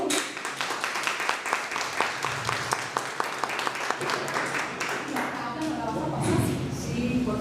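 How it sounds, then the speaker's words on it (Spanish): An audience at a talk gives a round of applause, a dense patter of many hands clapping steadily for several seconds before fading into a speaking voice. "Les pido un aplauso para él,"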